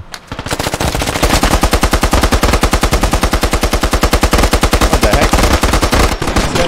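Sustained burst of machine gun fire in an urban warfare video game, loud and close, with rapid, evenly spaced shots running nearly the whole time before cutting off near the end.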